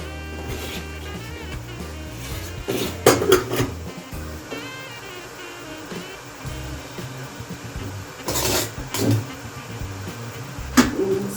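A whole cabbage lowered into a pot of boiling water, with clanks of the pot and lid, a few knocks and metallic scrapes over a constant rumbling boil.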